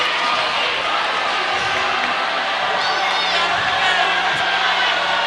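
A high school basketball crowd stands and cheers, a dense, loud roar of voices and whoops filling the gym, with an announcer talking over it.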